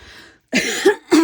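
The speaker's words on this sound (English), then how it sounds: "Why am I coughing?" A few sharp coughs in quick succession, close and fairly loud, with a brief pause before the last one.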